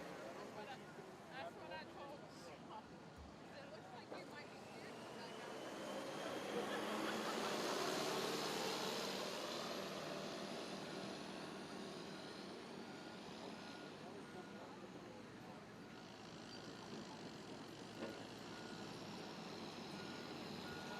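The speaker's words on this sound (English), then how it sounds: "here comes the high horsepower Dodge, of course, now to the starting line" A high-horsepower Dodge pulling truck rolls up to the starting line at a truck and tractor pull in Lanesville, its engine a broad, steady rumble that swells midway, while an announcer talks throughout over the crowd noise.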